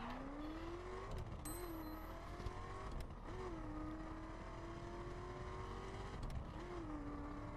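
Chevrolet Camaro SS 2010, rear-wheel drive, driving in the racing game The Crew: a steady engine note that rises and dips with gear shifts and revving, with a few brief squeal-like bursts, no talk.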